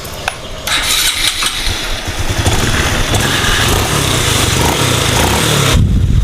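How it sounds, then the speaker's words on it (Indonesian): Honda Supra 125 FI motorcycle engine, freshly repaired with a new bearing, starts up and settles into a smooth, even idle close to the microphone, steady and fairly loud for several seconds before a brief cut at the end. "Oke, mesinnya udah halus, enak."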